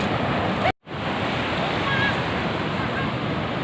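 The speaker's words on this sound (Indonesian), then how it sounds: "Wah, ini pantai. Wah, keren. Pantainya keren" Ocean surf at a beach in Krui on an overcast day, a dense steady roar of breaking waves mixed with wind buffeting the microphone, broken by a brief dropout near the start.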